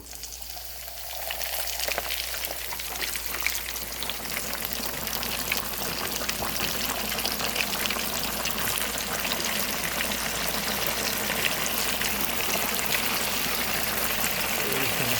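Rock fish deep-frying in hot oil gives a dense, loud, continuous sizzle and crackle, steady from start to finish with no voices.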